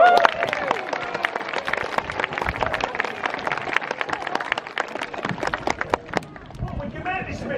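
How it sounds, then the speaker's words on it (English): Scattered clapping from an audience at a bird show at a Yorkshire resort, loose and uneven under a presenter talking and a short exclamation. "If he gets this, a big clap."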